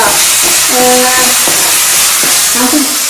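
Shallots frying with salt in a masala, with steady sizzling and occasional stirring scrapes running close and continuous throughout.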